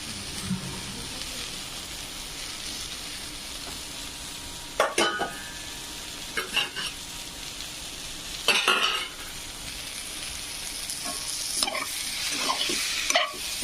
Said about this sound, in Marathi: शेंगा छान पैकी फ्राय झालेले आहेत